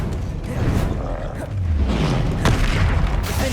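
A Confringo fire spell explodes in the Hogwarts Legacy video game, with a heavy boom and rumbling blasts and whooshes layered over continuous combat noise, loud and close.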